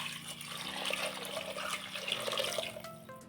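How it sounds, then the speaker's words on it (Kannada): Water splashes from a vessel into lentils and tomato in a pressure cooker, a brief, close, steady pouring sound with no voices. "ಅದಕ್ಕೆ ಸ್ವಲ್ಪ ನೀರು ಹಾಕ್ಕೊಳ್ತಾ ಇದ್ದೀನಿ."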